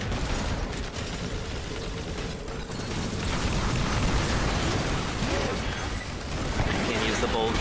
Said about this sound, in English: the missiles coming out of the fog at me